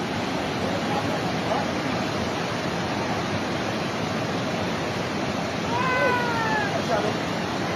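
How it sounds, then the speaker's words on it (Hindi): Floodwater from heavy rain rushes through hill country with a steady, loud, unbroken roar that runs the whole time, with faint brief tones rising above it near the end. "पानी का शोर"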